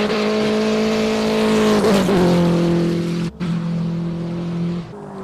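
A loud race car engine roars close by at steady high revs on a hill climb course, with a brief gear-change dip before it pulls on.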